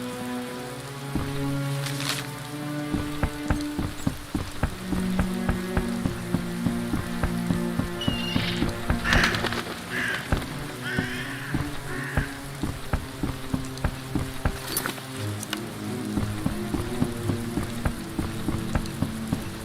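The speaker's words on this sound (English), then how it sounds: "What a downpour." Heavy rain drums down in The Witcher during a storm by a river ferry, a dense steady patter of drops with sharp splashes throughout, loud and close, with no voices.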